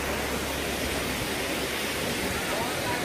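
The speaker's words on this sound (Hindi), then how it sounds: "गाइस ये नीर झरना आप देख सकते हैं पीछे" Steady broadband rush of the Neer Garh waterfall near Rishikesh, a constant wash of falling water heard close and loud with no breaks or other sounds over it.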